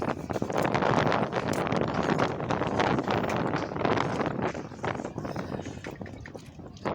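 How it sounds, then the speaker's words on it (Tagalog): A strong northeast monsoon wind, the amihan, roars and buffets loudly and continuously across an open boat at sea, gusting in waves with no clear breaks. "Medyo malakas yung amihan pag-uwi namin"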